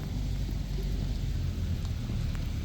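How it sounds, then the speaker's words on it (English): Steady rain falls during a drive along the Longmeadow Parkway, a continuous close wash of drumming drops over a low road rumble, with no voices. "rain's starting to pick up again"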